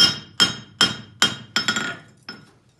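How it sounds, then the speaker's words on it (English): A farrier's hammer strikes a concave front horseshoe while a clip is drawn up with a bob punch: six sharp metallic blows in a fairly steady rhythm, close and ringing, the last one lighter, with no talk. "Still going in heel first with my hammer."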